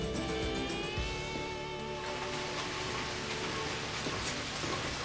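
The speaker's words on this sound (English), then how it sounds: "It's raining outside" Steady rain falls outdoors near a smoker loaded with a stuffed turkey, a dense, even hiss of drops on surfaces that continues without break and with no one talking.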